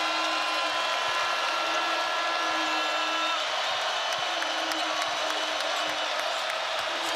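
A basketball arena crowd strongly behind Kansas at a Big 12 quarterfinal against TCU keeps up a dense, loud, continuous roar with scattered whoops and squeaks, under faint commentary.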